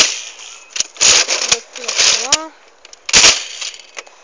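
Nerf Mega Centurion toy blaster firing darts, several sharp close pops and mechanical clacks in quick succession, with springy whooshing bursts between them.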